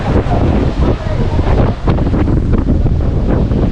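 Strong cool wind by the sea at Kanyakumari buffets the microphone in a constant roar, with the wash of sea waves underneath and no clear speech.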